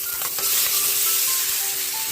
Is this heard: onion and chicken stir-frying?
yes